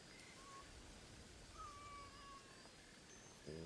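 A cat in the video game Assassin's Creed Shadows gives a few faint, drawn-out meows over steady low background noise, quiet and alone.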